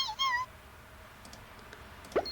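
A cartoonish cat meow from a Flash animal-sound matching game, one short rising-and-falling call at the start, then quiet game background with a soft click near the end.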